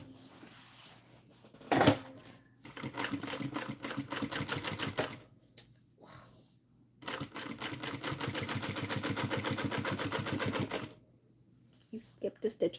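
A sewing machine stitches in two sustained runs of rapid, even needle clatter, separated by short pauses, with a sharp thump near the start and a low steady hum underneath.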